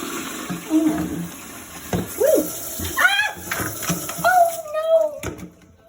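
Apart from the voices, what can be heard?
water spraying out during a toilet repair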